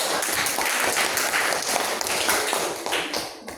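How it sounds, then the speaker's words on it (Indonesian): A classroom of students clapping their hands together, a dense, loud burst of many hands right up close that tapers off toward the end. "Tepuk tangan."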